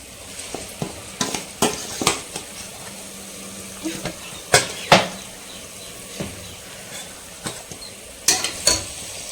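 Marinated chicken goes into a pan of softened onion, tomato and ginger garlic paste for biryani, with a steady low sizzle under repeated scraping and clinking of a spatula against the pan, close by.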